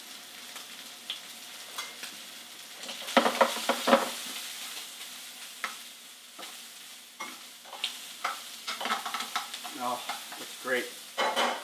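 Onions fry and slowly caramelize in a pan for country-style rigatoni pasta, with steady sizzling broken by scraping stirs of a utensil. A brief spoken remark comes partway through.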